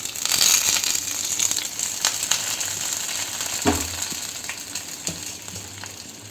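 Hot tempering with curry leaves poured into coriander seed chutney, crackling and sizzling strongest at first, then fading into scattered crisp pops and a clunk of the pan, quiet overall with no talking.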